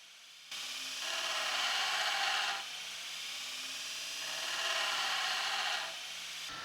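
A belt grinder works the inside corner of a steel knife blade, a steady abrasive hiss that swells and eases in two long passes under the constant whir of the machine.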